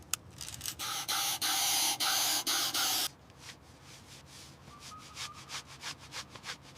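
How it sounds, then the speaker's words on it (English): Cleaner sprays in short pulsed bursts onto a burned yacht surface, close and loud for about three seconds, followed by quieter scattered rubbing and faint scraping. "spray it on now"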